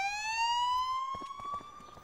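An emergency siren wails in a single long rising tone, moderately faint, with some background noise creeping in during the second half.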